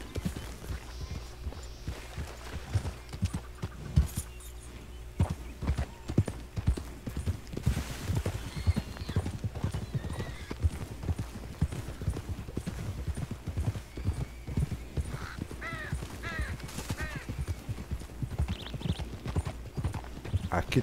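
Hooves of a white Shire horse clip-clop in a steady walking rhythm through Red Dead Redemption 2, close and continuous, with a couple of neighs and a faint voice talking underneath.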